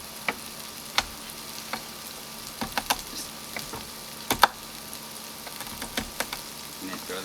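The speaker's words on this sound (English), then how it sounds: "Let's throw a couple of star anise in there. Let that toast up." Star anise and dried chipotle peppers toasting in a pan while cooking outdoors, a faint steady sizzle broken by scattered light pops and ticks from the spices.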